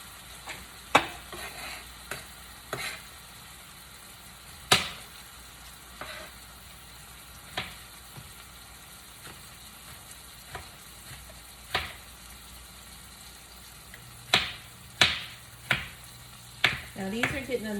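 Chopped onion sautéing in a hot pan under a soft steady sizzle, broken by sharp spatula scrapes and stirring clacks at irregular intervals, with a quicker cluster of strokes near the end.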